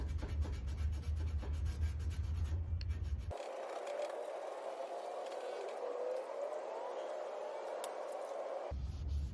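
Cleaning product being rubbed into the creases of a recteq Bullseye pellet grill lid, a steady close scrubbing rasp that runs for several seconds between quieter stretches, with no talking.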